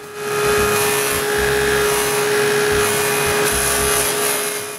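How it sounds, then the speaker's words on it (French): A dado blade set of 1¼-inch width cuts rabbets into wooden window-frame rails for a workshop, guided by a clamped fence, giving a loud, steady motor whine over continuous cutting noise for several seconds with no talking. "je coupe les feuillures de toutes les traverses"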